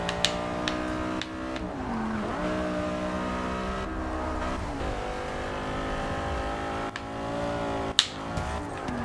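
An Audi R8 engine in the Forza racing game revs and drones continuously, pitch climbing and dropping through gear shifts with a couple of sharp clicks, loud and close.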